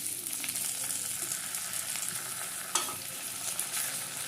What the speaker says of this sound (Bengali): কত সুন্দর করে পটলগুলোকে ভেজে নিলাম